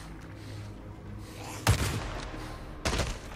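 Two booming shots from the video game Days Gone land about a second apart, each a loud, close blast with a short decaying tail over a low background rumble.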